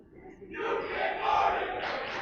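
Crowd at a Connecticut high school basketball game between Naugatuck and WCA roaring and cheering, a broad wash of shouting voices that rises after half a second and stays loud, with a brief dip near two seconds.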